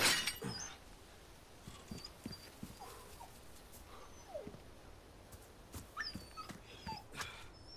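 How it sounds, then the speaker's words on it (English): A dog whimpers in Resident Evil 4 Remake, soft high whines repeating irregularly over quiet ambient game noise with occasional light knocks and thuds, faint and fairly distant. "There's a dog somewhere."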